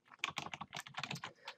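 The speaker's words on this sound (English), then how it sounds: "you're going to want to type in picture.jpg" Someone types a file name on a computer keyboard in a short, quick burst of crisp keystrokes, close and fairly quiet.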